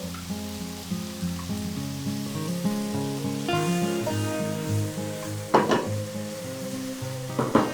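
Sizzling and frying in a pan of chicken masala for Kerala-style chicken perlan as tomatoes go in, with steady crackle under a tonal hum and a couple of sharp stirring clatters near the end.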